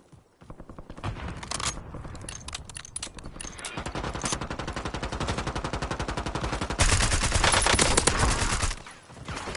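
Automatic weapon fire in the video game Warzone, with long loud bursts of rapid shots almost continuous for several seconds and brief pauses between volleys. It sounds close and dense, with no talking.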